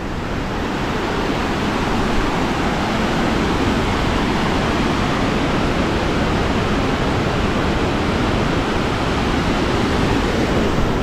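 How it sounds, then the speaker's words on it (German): A waterfall pours through the Göscheneralp gorge in the Swiss mountains, a steady, dense roar of rushing water that stays even and continuous throughout, with no voices over it. "ich will euch schnell einen Wasserfall zeigen"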